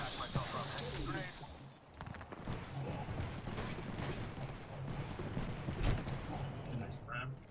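Rapid bursts of gunfire and explosions in a video game shootout, including a grenade blast, dense and continuous, with a player talking over the action.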